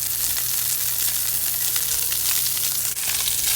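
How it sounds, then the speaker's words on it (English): Ahi tuna searing in a smoking-hot cast iron pan with olive and vegetable oil, a loud, dense, unbroken sizzle heard up close with no voices. "we're ready to put it in a smoking hot cast iron pan with some olive oil and vegetable oil"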